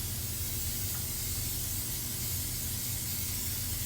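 Non-stick cooking spray hisses steadily from the can into an air fryer basket, a continuous soft aerosol spray that stays fairly quiet with no voices.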